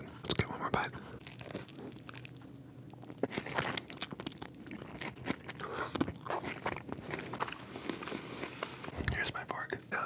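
Close-up ASMR biting and chewing of cafe food, with wet mastication, soft crunches and occasional crinkles and utensil clicks in an irregular rhythm, under intermittent whispered speech.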